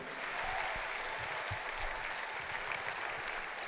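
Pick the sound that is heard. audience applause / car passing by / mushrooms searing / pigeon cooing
audience applause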